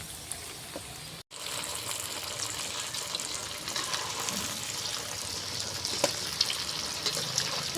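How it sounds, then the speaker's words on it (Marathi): Battis, round dough balls, frying in hot oil in a kitchen, a steady dense sizzle with small pops and bubbling, fairly near and continuous, with a brief dropout near the start. "अशा लाल चटक बट्ट्या तळून घ्यायच्या आपण."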